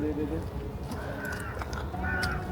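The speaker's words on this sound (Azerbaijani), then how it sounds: "Quşlardır" Crows caw a few times inside an abandoned building, faint to moderate and somewhat distant, over a steady noisy background with people talking.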